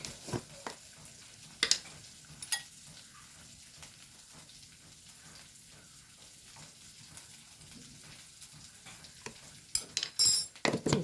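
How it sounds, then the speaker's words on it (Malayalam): A curry of jackfruit seeds with turmeric and chili powder boils in a pot, giving a soft, steady bubbling and simmering with occasional louder clinks and stirring bursts, heard alone at close range. "നമ്മൾ കൂട്ടാൻ നല്ലോണം തിളയ്ക്കുന്നുണ്ട്"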